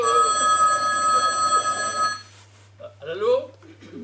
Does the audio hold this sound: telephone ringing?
yes